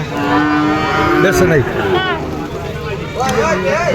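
Cattle moo repeatedly at a cattle market, several deep drawn-out calls close by, amid a busy crowd murmuring in the background.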